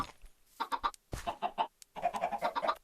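Chickens cluck on a farm in the Minecraft video game, several short bursts of close, clear clucking and squawking with gaps between, growing busier toward the end.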